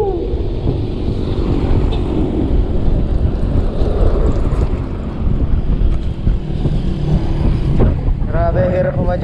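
Strong wind buffets the microphone during a bike ride along the coast at Sabang Beach, Baler, Aurora, a loud continuous roar of rushing air with no break.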